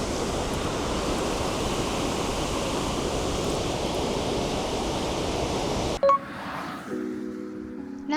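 Uryu waterfall in the Nakatsu gorge, Kochi, roars as a steady, dense wash of falling water for about six seconds before cutting abruptly to quieter ambient sounds with a faint tonal chime.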